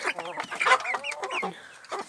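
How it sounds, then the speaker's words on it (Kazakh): Kazakh chickens cluck in a close, busy series of short, irregular calls that overlap on a farmyard, with no other sound. "Тауық болып кетті енді бұлар."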